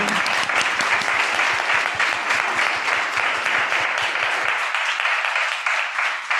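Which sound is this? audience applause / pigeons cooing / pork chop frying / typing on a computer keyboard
audience applause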